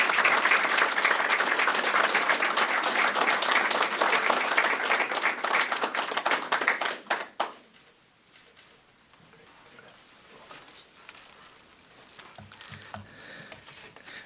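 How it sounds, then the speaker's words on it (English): Audience applause at a Stockton police badge pinning ceremony for a new officer, a dense, steady clapping from a crowd for about seven seconds before cutting off abruptly into quiet room noise with faint movement. "Let's give her a round of applause"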